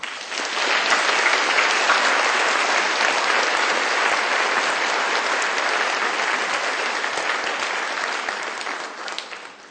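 Audience applause welcomes Dr. Michael Greger on stage, sustained dense clapping rising quickly and holding steady for nearly ten seconds before easing slightly.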